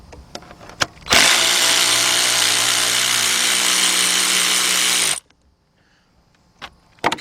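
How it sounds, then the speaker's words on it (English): A cordless 3/8-drive ratchet with a shallow 10mm socket spins off a bolt during radiator fan assembly replacement on a 2011 GMC Acadia 3.6, one steady close whir of about four seconds between faint clicks and handling noises. "Cordless ratchet or 3/8 drive ratchet, and get a shallow 10mm socket 3/8 drive"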